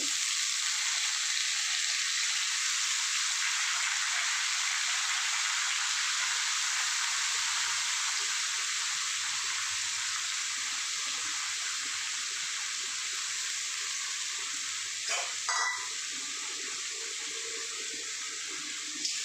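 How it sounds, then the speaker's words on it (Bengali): Drained moong dal is stirred in a pot, giving a steady, even hiss of sizzling throughout, with a brief clatter near the end. "একটু নাড়াচাড়া করে নেবো মুগের ডালগুলো"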